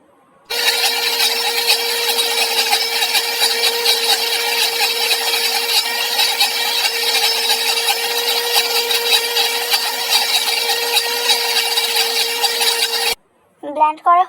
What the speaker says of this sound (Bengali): এভাবে সব কিছু একসাথে মিক্স করে আমি এখানে ব্লেন্ড করে নিব